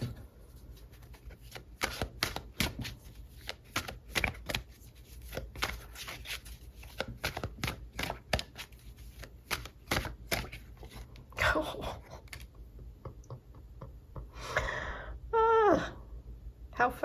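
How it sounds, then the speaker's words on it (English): Tarot cards being shuffled in a fast run of crisp riffling snaps for about twelve seconds, followed by a few softer slides and flicks as cards are pulled from the deck, with a brief murmur from a voice near the end. "I'm going to pull a couple more cards."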